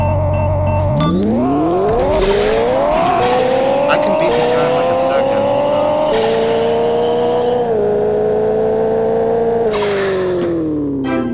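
A race car in Pixel Car Racer revs hard with NOS, a loud, close engine climbing through repeated gear shifts with rising whines and brief tire squeal, sustained throughout.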